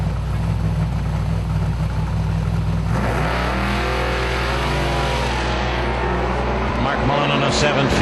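Engines roar at a drag strip launch as a Malibu and an 85 Ford Mustang leave the line, a steady loud drone then rising pitch sweeps from about three seconds, with crowd or announcer noise layered throughout.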